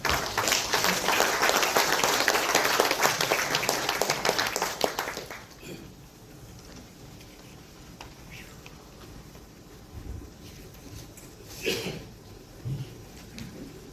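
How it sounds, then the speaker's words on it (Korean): An audience at a memorial marking the 14th anniversary of former President Kim Dae-jung's death claps for about five seconds, then the applause fades into a quiet room with faint shuffling and scattered small knocks. "큰 박수 부탁드립니다"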